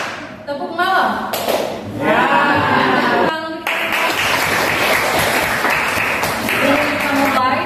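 Class of eighth-grade students clapping together in rhythm, a patterned burst of hand claps filling the room, loud and close with brief gaps between sets and a teacher's voice speaking between the rounds.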